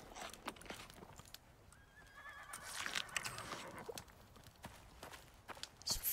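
A horse in the survival game Icarus whinnies faintly and its hooves clip-clop at a walk, over quiet ambient game sound.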